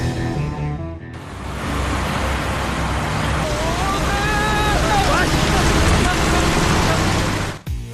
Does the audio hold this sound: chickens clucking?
no